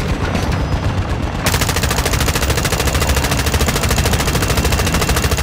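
Sustained automatic gunfire from a multiplayer video game rattles loudly and steadily in rapid bursts, a continuous fast stream of shots throughout with no talk heard.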